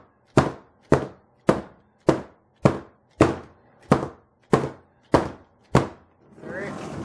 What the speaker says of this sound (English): all I did there was just knock out the excess air bubbles